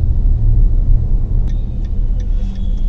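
A car engine hums steadily while driving during a driving lesson, low rumbling drone with small dips as gears change, a faint high whine creeping in later.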